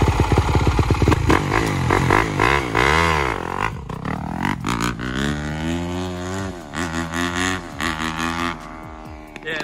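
A Yamaha YZ250F dirt bike engine revs hard and climbs in pitch during a wheelie lesson, loud and close, with rising and falling throttle sweeps and mechanical clatter, alone without talk.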